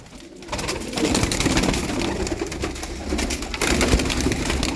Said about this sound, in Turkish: Şurada bir tane erkek çorum çıplağımız var.